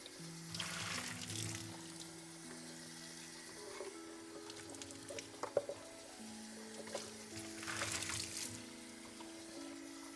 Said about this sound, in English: all I gotta do is just rinse all this water out